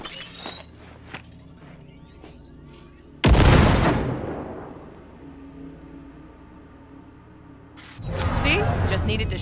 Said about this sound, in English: Now, detonate the grenade.